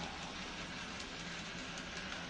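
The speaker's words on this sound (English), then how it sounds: "I got another DC train down here who's just on" N scale model DC train running around a roughly ten-foot layout loop, a steady continuous rolling whir with faint rhythmic clicking, fairly close and unbroken.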